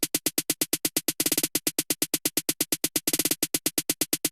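Quick, evenly spaced snare-like hits tick along steadily, with two short bursts of faster rolls, quiet and alone.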